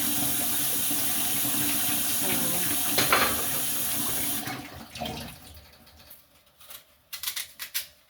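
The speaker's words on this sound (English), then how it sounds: "I like to rinse everything, even though it comes out the cabinet, but I still rinse it" Running kitchen tap water splashes steadily over a peeled apple being rinsed, then the flow cuts off, leaving faint drips and a few light clatters near the sink.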